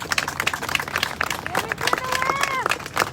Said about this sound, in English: Can we give him another applause?